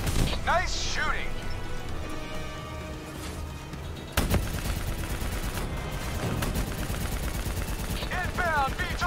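Rapid automatic gunfire and sharp explosive cracks fill a Call of Duty Black Ops 3 firefight, dense and continuous with a heavy burst midway, while voices call out in the background.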